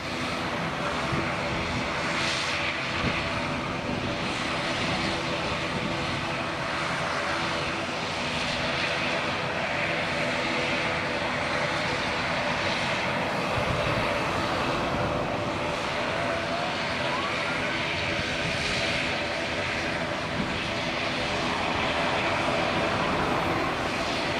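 An airliner departs Leeds Bradford Airport, its engines producing a steady, loud broadband roar that holds for the full duration with little change, dominating the scene.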